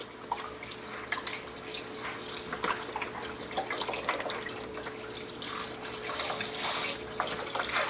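Store-bought vegetable broth pours into an Instant Pot as a continuous splashing, gurgling stream of liquid, fairly close and uneven in strength.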